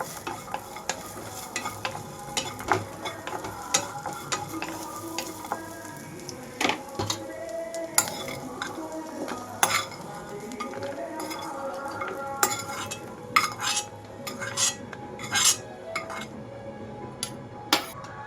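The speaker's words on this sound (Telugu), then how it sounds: "రెండు నిమిషాల తర్వాత ఒకసారి కలుపుకొని ఇవన్నీ కూడా ఒక ప్లేట్లోకి తీసేసుకుంటున్నాను" Roasted lentils being stirred in a pan for a tomato and coconut chutney, with a spoon scraping and tapping metal in busy, irregular bursts, then tipped onto a plate with light clatter.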